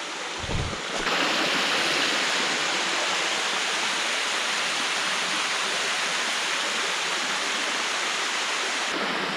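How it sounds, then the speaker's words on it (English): Continuous rushing water from a small rolling waterfall on Paint Creek, Ohio, a steady broadband roar that stays even throughout, fairly close, with no voices. "This is a really like peaceful little rolling waterfall."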